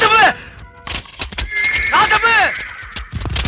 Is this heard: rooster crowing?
no